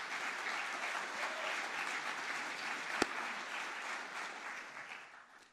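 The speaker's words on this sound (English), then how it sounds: "Round of applause one more time." Audience applause at a City of Lancaster, Pennsylvania comprehensive plan presentation: sustained, dense clapping from a crowd that holds steady, with one sharp clap standing out midway, before slowly fading at the end.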